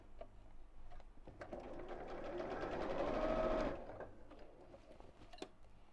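A sewing machine runs in a continuous stitching whir, swelling louder in the middle then easing off, with faint clicks before and after.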